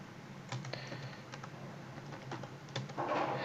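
Close, irregular keystroke clicks on a computer keyboard as someone types a short C++ program, with brief pauses between bursts and a slightly busier patch of keys near the end.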